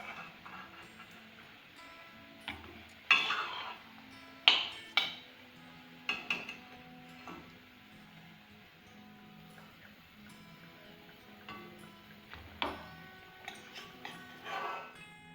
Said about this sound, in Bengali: দেখো কি সুন্দর মুচমুচে হয়েছে, বিস্কুট যেমন ঝনঝন ঝনঝন আওয়াজ হচ্ছে